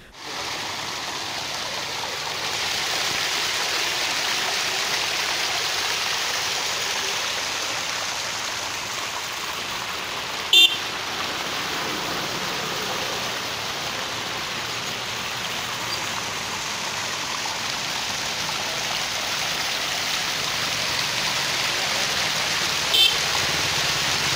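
Water gushing steadily from a burst pipeline along a bus stand road, heard as a continuous broadband rush with a couple of brief clicks, no talk.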